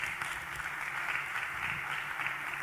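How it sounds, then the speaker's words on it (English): Steady audience applause from a crowd at a forum on school-to-jobs pathways for young people in Western and Central Africa, a dense continuous patter holding at an even level for a few seconds without voices. "I would give you a round of applause for that."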